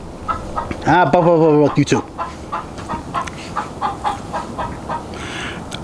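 A chicken squawks loudly in a harmonic burst, followed by a series of short, rhythmic clucks, with a brief spoken voice partway through.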